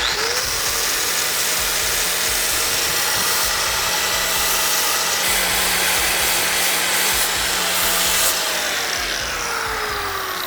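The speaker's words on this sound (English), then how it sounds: "we're gonna go ahead and grind this caliper down on this side" Power grinder working down the edge of a Honda ATV front disc brake caliper, a continuous loud high-pitched whine with steady abrasive hiss and slight pitch dips under load, close up with no talking.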